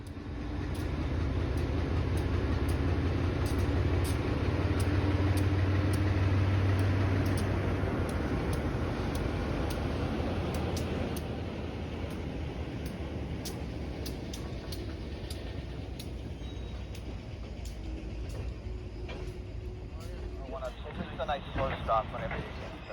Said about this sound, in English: this 42-year-old locomotive parallel the Red Line's 52-year-old Pullman standard cars